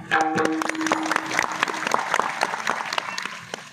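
Steady applause from a kirtan crowd during a saptah gathering honoring a dindi procession, dense clapping sustained throughout with a few louder individual claps standing out.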